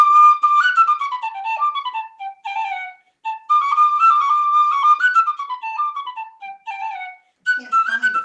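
A flute plays a bright, ornamented melodic line alone, with short phrases separated by brief pauses and clear, close tone.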